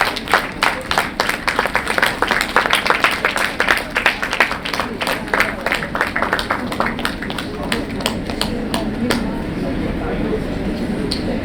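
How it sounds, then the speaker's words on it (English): At the ANEICON 2023 conference inauguration, the audience applauds an award recipient with dense, lively clapping that thins out and fades toward the end. "May all of you give a round of applause to her"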